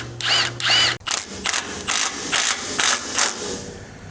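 A power driver whirs loudly twice, then pulses in a series of short bursts as a self-tapping screw is driven into a trailer clamp during trailer rewiring.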